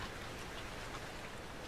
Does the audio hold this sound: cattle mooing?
no